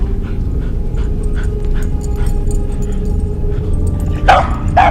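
A pet dog makes soft yips and whimpering barks indoors over a steady hum, with a couple of sharper, louder barks near the end.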